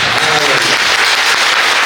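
A church congregation claps together in loud, dense applause that fills the whole moment, with a few voices briefly audible underneath.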